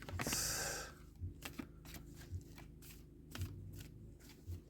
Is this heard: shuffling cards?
yes